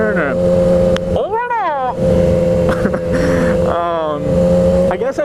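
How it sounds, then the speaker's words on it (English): A car on the road heard from a Yamaha R1 sport motorcycle, its engine tone rising and falling as it passes close, loud and mixed with wind noise and talk. "Is this car gonna turn or..."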